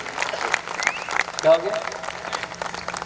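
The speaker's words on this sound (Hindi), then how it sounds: "आप एक बार आसमान तक तालियां बजाएं" Audience applause welcoming poet Dr Vaishali Shukla from Indore at a Hasya Kavi Sammelan comedy poetry gathering, a steady crowd clapping throughout with a brief spoken question over it.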